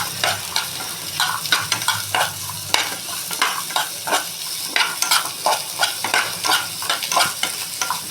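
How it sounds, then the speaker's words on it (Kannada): Mutton frying in oil in a pan while being stirred for sambar: a constant sizzle broken by rhythmic bursts of spoon scraping and stirring, close and fairly loud, with no voices. "ಚೆನ್ನಾಗಿ ಈ ಥರ ಎಣ್ಣೆಲಿ ಫ್ರೈ ಮಾಡಿ ಹಾಕ್ಕೊಂಡ್ರೆ ಸಾಂಬಾರು ಟೇಸ್ಟಿಯಾಗಿರುತ್ತೆ"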